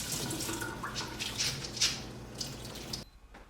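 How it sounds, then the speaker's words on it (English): Tap water runs and splashes in a kitchen as chana dal, urad dal and fenugreek seeds are rinsed, a faint, close, continuous gurgle with small splashes before stopping abruptly near the end. "next I'm going to rinse my chana dal, my urad dal, and my fenugreek seeds"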